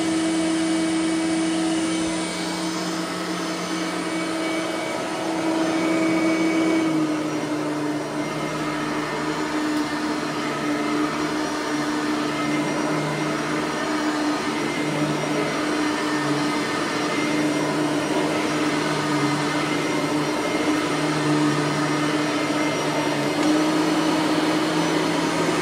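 Bissell 3510 carpet cleaner running steadily as it vacuums a rug indoors, a loud continuous motor whine with a slight pitch drop partway through, no talking.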